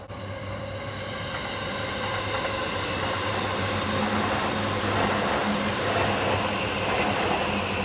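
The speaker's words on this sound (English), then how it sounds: "That was the Yamanote train." A Yamanote Line commuter train in Tokyo rumbles past nearby, a steady loud roar of wheels and rail noise with faint rhythmic clatter, building slightly as it goes by.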